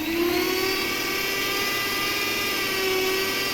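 Four eggs beaten in a bowl for homemade cake batter with an electric hand mixer, giving a steady, loud, continuous motor whine that holds evenly throughout without any talking.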